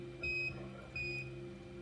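Electronic tone beeps from an Apollo mission recording, two short bright pure beeps about half a second apart over a faint hum.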